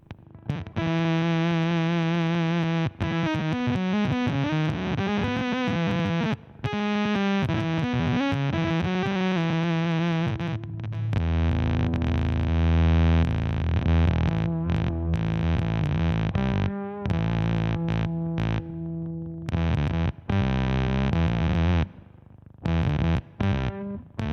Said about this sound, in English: You can get into some really weird and wonderful glitchy fuzz tones with this one.